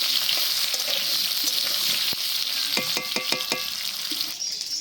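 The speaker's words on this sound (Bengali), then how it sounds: "আলুটাকে আগে খুব ভালোভাবে ভেজে নেবো" Potatoes fry in oil in a pan as part of a rui fish curry with potol and tomato, giving a steady close sizzle throughout, with a quick run of clinking pan or utensil taps near the end.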